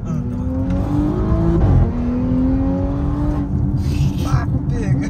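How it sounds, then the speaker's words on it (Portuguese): A Porsche hybrid car with electric motor and gasoline engine making about 700 horsepower accelerates hard, its loud engine note climbing in pitch, dipping at a gear change and rising again, heard from close by with brief background voices. "A Porsche era puxando, velho."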